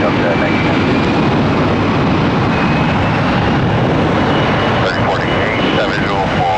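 An airliner takes off from a runway at Atlanta International Airport, a loud, steady jet engine roar that fills the whole stretch without a break.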